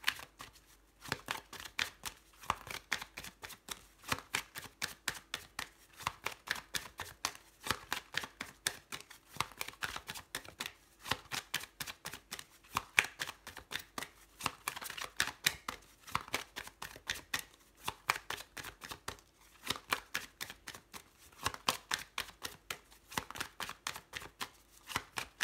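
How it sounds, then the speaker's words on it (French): Tarot cards being handled and put away, a long run of quick papery flicks and riffles in repeated bursts, close and fairly quiet, with no talk over them. "Hop, je vais ranger mes cartes."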